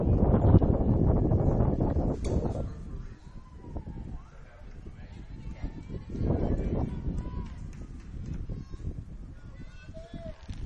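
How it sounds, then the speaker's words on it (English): Wind buffets the microphone in heavy, rumbling gusts that swell and ease, with faint outdoor sounds underneath, at an outdoor college baseball game. "very windy out here. Apologize at times. The audio, you might hear it come in and out as gusts periodically"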